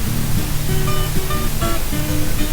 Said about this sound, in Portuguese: Hoje a água corre solta,